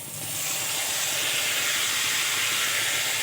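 Chopped tomatoes hit a hot pan and set off a loud, steady sizzle that swells within the first half second and then holds as a continuous hiss.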